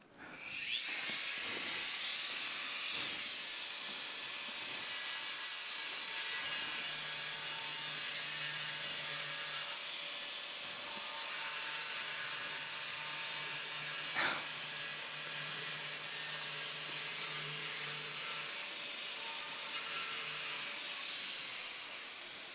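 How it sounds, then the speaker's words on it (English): A saw cuts through the mortar joints between bricks in a long, steady, loud hissing grind that runs almost without a break, with a slight dip near the middle. "make 2 passes, one on the top and bottom of the mortar, then chisel out the remaining mortar"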